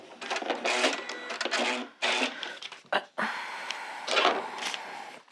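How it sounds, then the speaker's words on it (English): A sewing machine stitches fabric in several sustained runs separated by short pauses, with a brief mechanical clack in between, loud and close. "We're going to sew on the line, but we're going to go past and keep sewing for another 1/4 inch"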